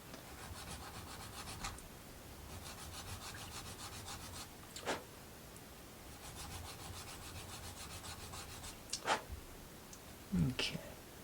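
Hand sanding of small wooden parts for a book nook model: rhythmic, fast back-and-forth rubbing strokes in bursts, close and soft, with a few brief knocks and taps between them.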